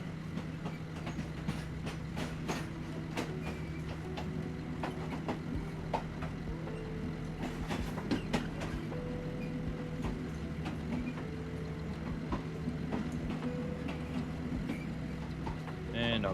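A train in a tree-chopping video game runs steadily on its rails, a continuous low rumble with repeated clicks and clacks throughout, and a voice is heard now and then.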